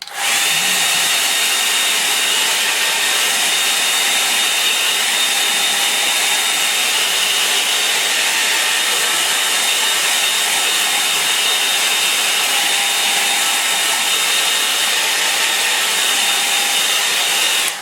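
A hair dryer runs continuously and loud at close range, drying a watercolour painting of a woody glade with a steady unbroken whoosh for the whole stretch.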